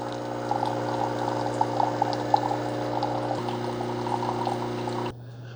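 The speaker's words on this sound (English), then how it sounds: "you should get some water flowing out of it rather quickly" Hot water pours steadily from an Instant 2-in-1 multi-function K-Cup coffee maker and espresso machine during priming, a continuous close liquid stream with pump hum beneath, stopping abruptly near the end.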